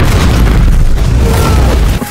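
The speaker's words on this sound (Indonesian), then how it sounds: "ia meledakkan dirinya dengan dinamit yang dipersiapkan Victor" A dynamite explosion: a deep, sustained roaring boom fills the whole stretch, heavy low rumble with crackling debris noise, loud and close, no talking.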